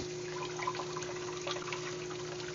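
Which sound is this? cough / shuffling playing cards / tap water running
tap water running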